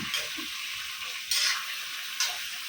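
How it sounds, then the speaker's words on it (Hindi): Crab masala stir-fried with a spoon in a pan, a continuous moderate sizzle with soft scraping and two brief louder bursts of frying. "चम्मच चला चला के फ्राई करेंगे"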